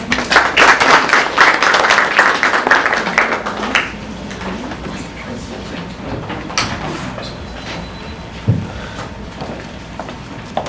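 An audience at a business networking workshop gives a presenter a round of applause, loud dense clapping for about four seconds that then fades into quieter room noise with scattered thumps.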